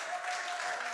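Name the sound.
wedding guests applauding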